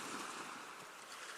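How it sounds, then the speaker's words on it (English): Ocean waves wash continuously onto a beach at sunset, a steady broad roar of surf with wind noise, moderately loud and unbroken, with no voices. "through the crashing of the waves"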